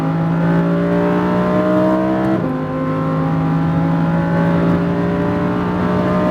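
A Lamborghini Huracan running hard on a track, a loud droning engine pulling steadily upward in pitch, dipping briefly at a gear shift midway, then climbing again under constant power.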